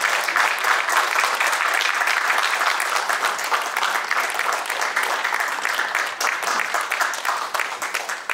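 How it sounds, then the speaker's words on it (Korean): Steady, dense applause from a sizable audience at an amateur football tournament opening ceremony continues for several seconds without pause. "큰 박수 많이 해주시기 바랍니다"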